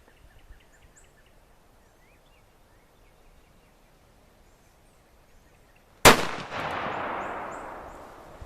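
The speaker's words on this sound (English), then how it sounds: "we're going to try for a headshot on our zombie target down there" DoubleTap Defense pistol fired once at a zombie target outdoors, a single sharp, loud crack with a long trailing echo after a quiet stretch with faint birdsong.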